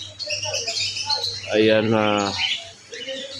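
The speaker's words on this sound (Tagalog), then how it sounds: "Yan yung mga ibon sa bird sanctuary ng ano" Birds chirp and call inside a bird sanctuary at a strawberry farm in Al Hada, Taif, with bright tweets scattered throughout and a louder call burst midway, while people talk over them.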